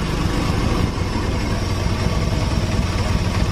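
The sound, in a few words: Honda Beat carburetor motorcycle engine idling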